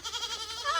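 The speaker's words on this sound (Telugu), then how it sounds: "చిన్న మేకపిల్ల" A small baby goat kid gives one short, wavering bleat, close and fairly soft, lasting under a second.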